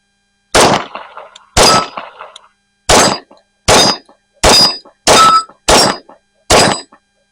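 Eight sharp gunshots from an H&K MK23 pistol at a range, each a loud close crack with a brief ring, fired at slightly uneven intervals over several seconds with short silences between.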